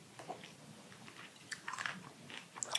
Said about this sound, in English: I do chew up the garlic.